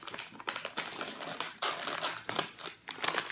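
A snack mix bag crinkles and crackles in bursts of plastic rustling, close up and fairly loud, with brief pauses between handling sounds.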